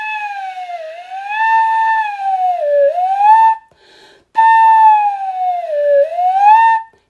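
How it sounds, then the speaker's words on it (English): A flute head joint is blown like a tuning whistle while a pinky slides in and out of the open end. The clear tone glides smoothly up and down, in two long phrases separated by a brief pause. "You can also treat it like a tuning whistle and slide your pinky in and out,"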